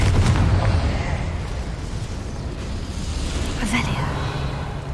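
Confringo spell blast in Hogwarts Legacy, a few heavy booming bursts over constant game ambience and background score, loud and close.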